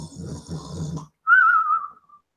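A man imitates loud snoring with a long, rough, rasping inhale of about a second, followed after a short pause by a whistling, wheezing exhale.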